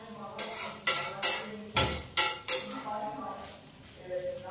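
A metal spoon stirs poha in a pan with cut fruit: sharp clinks and scrapes come at irregular intervals, about six close, distinct strikes against the pan, with a faint voice in the background.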